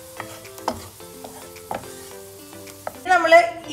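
Grated coconut frying in coconut oil in a frying pan, stirred with scraping strokes against a steady sizzle, louder frying hiss swelling near the end.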